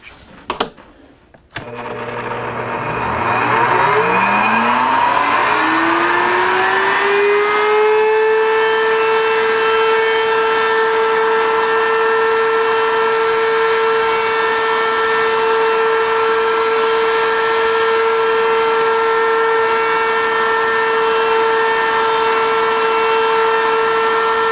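A power tool spins up after a few knocks, its pitch climbing over several seconds, then holds a loud steady whine for the rest of the time while chamfering the tops of wooden table numbers.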